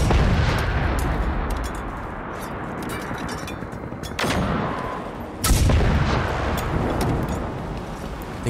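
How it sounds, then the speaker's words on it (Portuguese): A bomb going off in the video game Generation Zero: constant heavy gunfire and rumble, broken by two loud, close booming blasts a little past the middle. "Vou mandar logo um bombão por trás dele."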